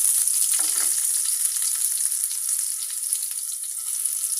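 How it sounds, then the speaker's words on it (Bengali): A few cloves of chopped garlic frying in hot oil with five-spice seeds for tomato chutney, giving a steady bright crackling sizzle close up, with a brief soft stir early on and no talking. "রসুন কুচি দিয়ে দিব দুই তিনটা কোয়ার কুচি করে নিয়েছি"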